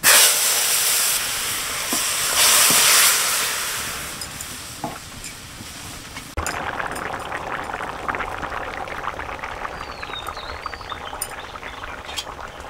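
Ridge gourd and tengra fish curry, from home-grown gourd, tipped into hot oil tempered with cumin. A loud broad sizzle and hiss settles into a quieter crackling simmer with faint clinks, and nobody speaks.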